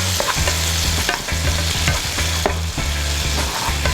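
Peeled tomatoes sizzle and fry in a hot pan while a utensil scrapes and stirs them steadily. A dense, continuous crackle runs under repeated low scraping strokes, with no talking.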